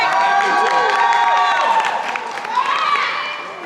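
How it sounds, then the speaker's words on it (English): An audience at a political event for a slavery abolition bill bursts into cheers and whoops with clapping underneath, a loud, lively crowd burst lasting a few seconds. "give yourselves a round of applause"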